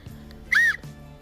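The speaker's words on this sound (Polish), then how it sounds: "Dobrze, gwizdek jest dość głośny." A single short, shrill blast from a pealess survival whistle with a built-in compass, sharp and close, standing out clearly against a quiet background.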